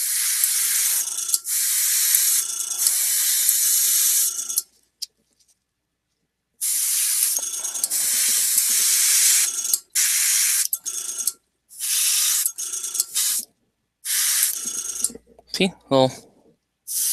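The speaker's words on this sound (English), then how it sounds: "So let's spray a little." An airbrush or spray can hisses in long bursts as paint goes onto a miniature, the sprays starting and stopping with short gaps, close and steady, with a few brief spoken words between them.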